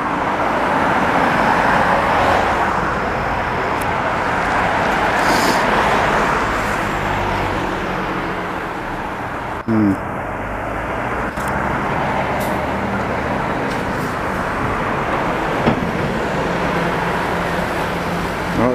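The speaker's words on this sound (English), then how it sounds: "that's the bus I could have taken" A city bus passes along a residential street in the LaSalle borough of Montreal in winter, a steady broad roar of traffic that swells and fades over about twenty seconds with no talk.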